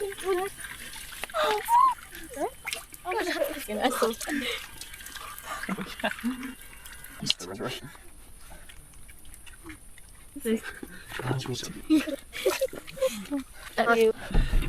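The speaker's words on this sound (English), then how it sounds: "that is how I shower in my camper van" Water splashes and sprays from a warm-water shower setup inside a camper van, falling in uneven bursts close by across the whole stretch, with a person's voice and occasional murmurs mixed in.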